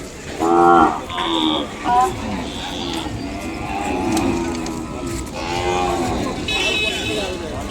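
Calves and cattle at the Kodada weekly livestock market, with Ongole bulls and cows, lowing in repeated close moos over a busy crowd murmur and background voices.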